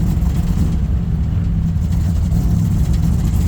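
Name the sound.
old vehicle engine running rough with choke stuck closed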